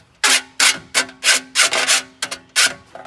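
A hand file is scraping burrs off the cut rim of a one-gallon metal paint can being made into a hobo stove. About eight short, rasping strokes come in an even rhythm, close and loud, with no talking.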